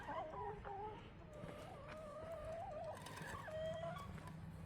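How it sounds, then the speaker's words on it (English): Chickens on a garden deck cluck and gobble in short, warbling calls, fairly close by over a quiet outdoor background, with a couple of louder calls near the end. "Bird, get off the deck."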